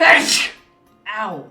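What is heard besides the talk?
sneeze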